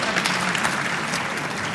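Dense audience applause, a steady wash of many hands clapping close and loud, holding evenly from start to finish without pause.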